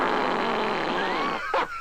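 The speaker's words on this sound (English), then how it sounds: "What's the loudest fart you've ever cut?" A loud, drawn-out fart rumbles on for about a second and a half in a radio talk-show studio, then a brief rough burst follows at the end, close to the microphone.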